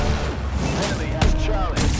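Rapid automatic gunfire from a weapon in Call of Duty: Advanced Warfare, a dense continuous burst with a sharper shot near the middle, loud and close amid game effects, with faint talk mixed in.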